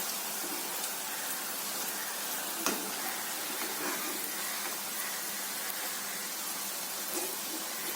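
Maida flour snacks fry in hot oil on medium heat, giving a steady close sizzle and fine crackling that runs evenly throughout with one small clink.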